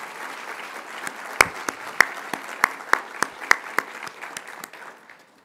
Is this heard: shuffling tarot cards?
no